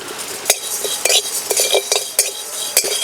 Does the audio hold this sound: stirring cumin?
yes